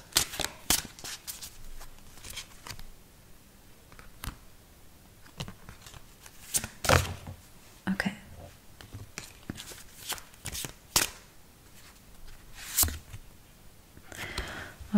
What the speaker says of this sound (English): I think I'm gonna actually shuffle these.